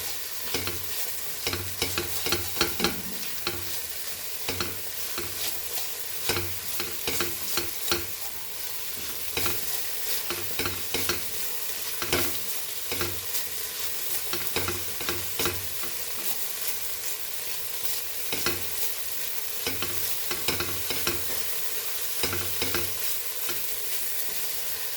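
Onion and tomato fry in a pan for a Goan beef arroz, giving a steady close sizzle throughout with repeated scraping stirs at an irregular rhythm and no talking.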